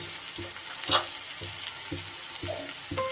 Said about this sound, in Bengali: খুব ভালো করে এগুলো আমি সব একসাথে বেশ ভাজা ভাজা করে দিই